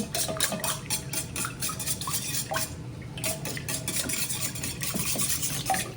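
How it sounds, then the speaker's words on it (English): Eggs and milk whisked together in a bowl for a baked omelet, a quick continuous run of rhythmic tapping and swishing strokes, close and fairly loud, with a brief pause midway and no voices. "now you're gonna whisk up these eggs and milk, get your yolks broken up nicely"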